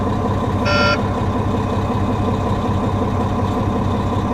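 An RV hauler truck's diesel engine rises in RPM on its own, a steady mid-pitched drone with a short beeping tone near the start, heard up close with no talk.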